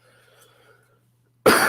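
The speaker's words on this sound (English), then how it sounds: "Pardon my lingering cough." A single sharp, loud cough bursts out after a stretch of near silence with a faint background hum.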